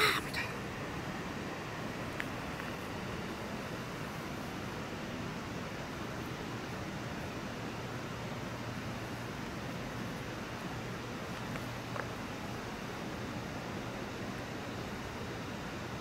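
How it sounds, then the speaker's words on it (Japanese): Running water by a bridge gives a steady, even rush of noise at constant loudness for the whole stretch, with no voices over it. "こっちの方は水の音だけど"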